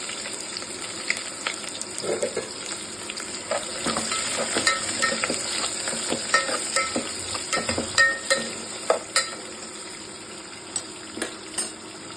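Bay leaf, cloves, cardamom and onion frying in a pan for vegetable biryani, a bubbling, watery sizzle with clicks and scrapes of stirring that thin out toward the end.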